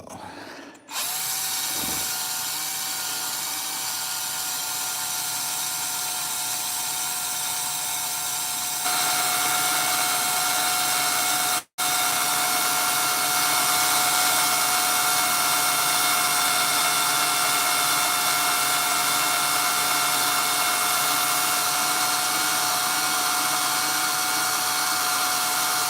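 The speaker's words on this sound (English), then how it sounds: "You're just buffing out the plastic or the Lexan." A power tool whirs continuously as it buffs out the plastic Lexan body of an RC car, a loud steady whine that steps up slightly partway through and cuts out for a moment before resuming.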